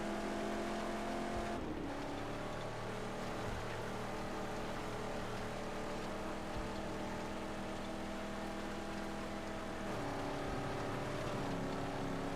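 The Phantom V6 engine of a car in the Mad Max video game drones in a steady low growl, briefly revving near the start and again near the end, loud and continuous with no talk.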